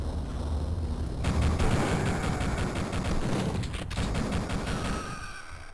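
Rapid bursts of shotgun fire in the retro video game Duke Nukem 3D crackle continuously over a dense, rumbling background, with sharp repeated shots close up and no talking.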